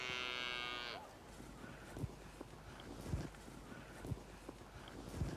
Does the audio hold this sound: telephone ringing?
no